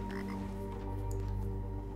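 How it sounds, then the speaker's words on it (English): A huge frog croaks in the fantasy RPG Tower of Time, a steady low rumbling call sustained over ambient game music with droning tones, loud and close throughout. "Is this a huge frog?"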